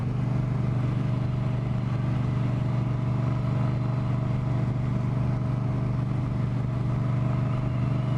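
A Victory V9 Bobber motorcycle cruises along, its engine humming at a steady low pitch with constant wind rush, close and unbroken throughout.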